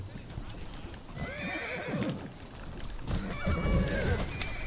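A horse-drawn taxi carriage in Assassin's Creed Syndicate, with steady clip-clopping hooves and two loud neighs, one near the start and a stronger one later, while someone talks over it.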